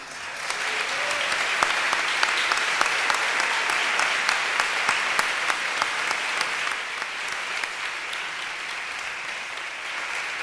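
Dense, sustained audience applause at a live concert recital at Casa Rosada, a steady wash of many hands clapping throughout with a few sharper claps standing out, fairly loud and without talk.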